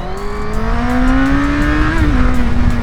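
A QJMOTOR SRK800RR motorcycle accelerating at full throttle from low speed, a loud close engine drone rising steadily in pitch with a brief dip like a gear change, then pulling on.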